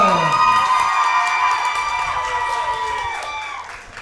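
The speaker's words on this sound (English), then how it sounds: "And the crowd showing their support for Chase Stevens here tonight." A wrestling event crowd cheers and shouts loudly in an arena, a sustained roar with whoops that gradually fades over a few seconds.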